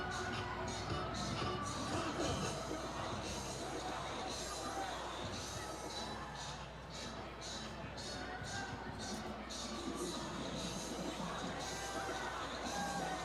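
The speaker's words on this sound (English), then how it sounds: "Crowd having a good time here tonight." Crowd noise from a high school football game, Jefferson versus Coon Rapids, a steady broad roar of voices and cheering with scattered shouts, continuous and moderately loud throughout.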